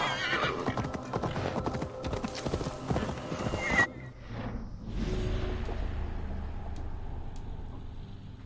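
Hooves clip-clop steadily as a horse gallops in Assassin's Creed Valhalla, joined by a loud whinny and a whooshing transition partway through, then continuing as a softer rumbling run.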